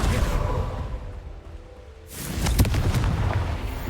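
A magical Confringo blasting spell from Hogwarts Legacy erupts midway as a loud booming burst with a whooshing tail, following a stretch of busy game ambience.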